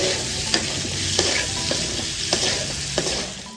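Baby potatoes sautéing in a pan sizzle steadily, with occasional spoon stirs and scrapes sounding sharply over the frying.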